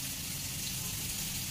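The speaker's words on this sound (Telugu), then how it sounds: "వాటర్ పోసుకోవాలి" Water gushes into a cooking pot of fish curry with green chillies and rock salt, a short steady pouring rush heard close up.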